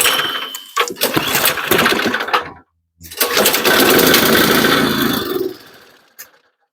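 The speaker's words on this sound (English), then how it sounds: "Okay, so it runs" A snowblower's small gasoline engine is pulled over, catches with a rough sputter, then roars loudly for a couple of seconds before dying away; the machine has a suspected carburetor fault.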